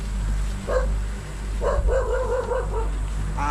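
A dog barks a few times nearby, short sharp barks separated by pauses, over a low steady hum of engine or road noise.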